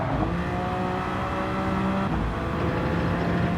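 BMW Vision Gran Turismo racing car in Gran Turismo 7 at full power, its engine whine climbing steadily in pitch, dropping at a gear change, then building again at moderate volume.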